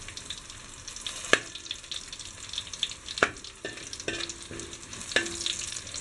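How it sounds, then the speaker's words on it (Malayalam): Onions and chillies sauté in hot oil for a horse gram stir-fry, a soft steady sizzle broken by several sharp clicks and scrapes of a spoon stirring the pan. "ഒരു ചെറിയ ബ്രൗൺ കളർ ആവുന്നവരെ നന്നായിട്ടൊന്ന് വഴറ്റിയെടുക്കുക"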